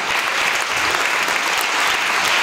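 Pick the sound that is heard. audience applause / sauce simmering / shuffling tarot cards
audience applause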